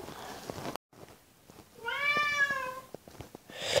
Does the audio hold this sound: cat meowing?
yes